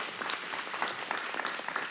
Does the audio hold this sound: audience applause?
yes